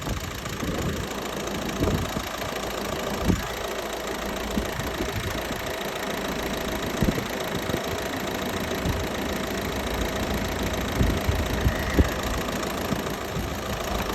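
A Citroën DS5 car engine idles steadily during an air-conditioning recharge, a continuous mid-pitched hum with faint knocking and a few light clicks, close by and with no talking.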